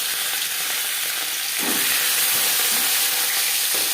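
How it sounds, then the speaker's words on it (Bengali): Rohu fish pieces spit and sizzle in hot refined oil, a loud steady frying hiss close by that swells slightly midway with a few bubbling bursts. "সবার প্রথমে মাছ ভেজে নেব"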